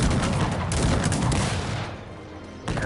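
Soldiers in the strategy game Cossacks 3 fire in a dense, continuous volley crackle, rolling shots layered over each other with a brief lull near the end before firing resumes.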